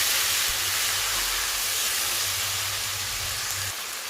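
Ginger garlic paste sizzling and frying in a pan for chicken biryani, a steady loud hiss with a low hum underneath that continues without a break.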